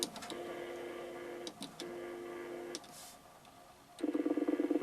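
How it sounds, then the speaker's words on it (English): A TEAC CR-310 VHS-based communications recorder playing back the control track of a slowly moving tape, giving a faint buzzing tone in repeating bursts with soft clicks and a mechanical rattle, low and alone. "That sounds like it's actually playing the control track on the tape."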